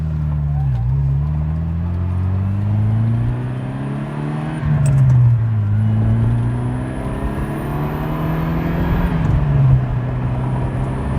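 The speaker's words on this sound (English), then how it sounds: "a quick drive in the Ferrari 308 GTSi, the fuel-injected Ferrari" A fuel-injected 1982 Ferrari 308 GTSi sports car drives along with a steady engine drone heard from inside, rising through the revs and dropping with each gear change, three times in a row, loud and continuous.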